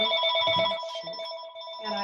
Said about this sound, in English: I'm sorry, my phone's going off.